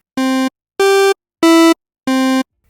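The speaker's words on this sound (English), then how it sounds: "But that sounds very different than a square wave, which sounds a little more hollow and round," A synthesizer oscillator plays a square-wave tone as four evenly spaced, hollow-sounding notes, each lasting about a third of a second. The notes are loud and isolated, with short gaps of silence and small pitch shifts between them.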